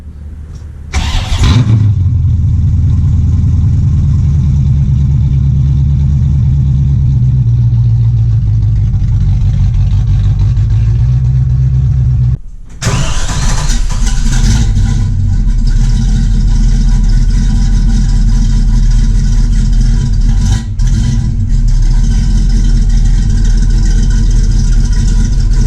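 A car engine starts with a sharp burst, then idles steadily and loudly while warming up, briefly cuts out around the middle, restarts, and keeps running near and continuous with no talking.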